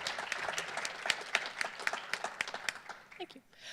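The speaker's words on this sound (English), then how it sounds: "Let's give them a round of applause, please." Applause from an audience at a public school trustee candidate forum in Medicine Hat: a few seconds of steady, fairly dense clapping that thins out and fades near the end.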